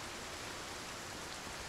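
Steady, dense hiss of rain falling in the Project Zomboid survival game, continuous and even, with no other sounds standing out.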